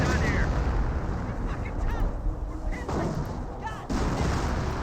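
A landmine going off in Company of Heroes, with the blast's dull rumble set among continuous battle noise of gunfire and bursts, ending in a sharper thump near the close, with speech mixed in.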